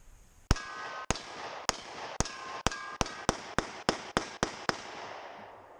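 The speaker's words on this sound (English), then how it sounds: "Let's take a couple shots at that carnaged out propane tank." Eleven sharp 9mm pistol shots from a Taurus PT111 G2, fired at an already shredded propane tank outdoors, crack out loud and close in a fairly steady rhythm, each followed by a ringing echo tail.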